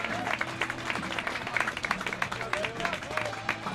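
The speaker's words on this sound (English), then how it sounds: "S gets an applause from the Hoosier fans here." Hoosier fans applaud at an Indiana softball tournament game, a steady patter of crowd clapping that carries on under a commentator's voice.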